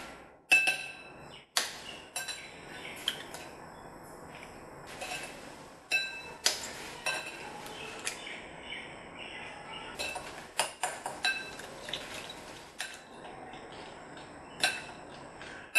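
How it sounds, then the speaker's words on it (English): Eggs cracked into a bowl while making a sugar-free banana cake, heard as several sharp clicks and knocks of shell against the rim, with a few light clinks at uneven intervals, close and fairly quiet. "To crack in the eggs."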